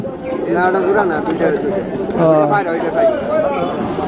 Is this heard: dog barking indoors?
no